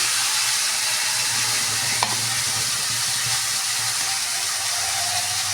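A paste of cumin, chilli and ginger fries in a pan with a steady, bright sizzle and soft stirring noises and one brief clink, with no one speaking.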